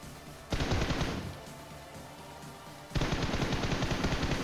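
Gunfire in the PUBG Mobile video game: two loud bursts of rapid automatic shots, the first fading into a quieter trailing tail before the second burst starts and carries on to the end.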